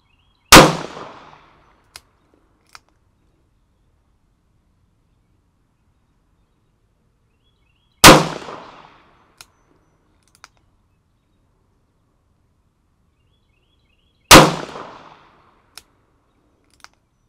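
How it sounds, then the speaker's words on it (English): Three sharp, loud revolver shots from a Smith & Wesson Model 317 fired at a target 20 yards away, spaced several seconds apart, each followed by a short ringing decay and faint clicks in the quiet between. "decided to take the target out to 20 yards and shoot a group at 20 yards"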